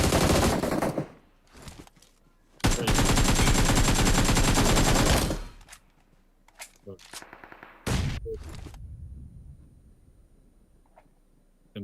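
Gunfire in the PUBG Mobile video game: dense bursts of rapid automatic shots, loud and sustained for a few seconds, then scattered single reports and a shorter burst, with a voice speaking between them.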